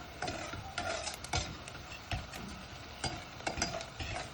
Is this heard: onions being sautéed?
yes